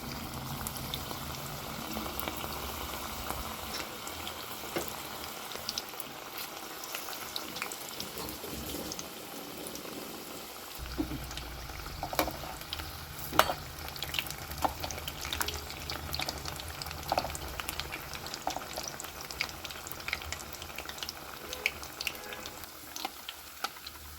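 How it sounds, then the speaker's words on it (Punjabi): Pakoras frying in hot oil in a Punjabi home kitchen, a steady, quiet sizzle and bubbling that grows busier with denser crackles partway through, heard alone. "ਹੁਣ ਆਪਾਂ ਪਕੌੜੇ ਤਲ ਲੈਣੇ ਆ"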